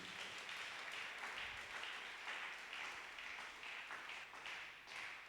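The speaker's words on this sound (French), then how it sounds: "Acclamons encore pour la gloire de Jésus" Steady applause from a congregation during a long prayer marathon, a dense wash of many hands clapping at moderate distance and sustained without a break.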